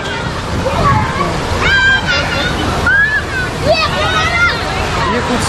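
Continuous water sloshing and splashing at a large water park in Gujarat, with a crowd of voices, shouts and children's cries mixed loudly over the running water.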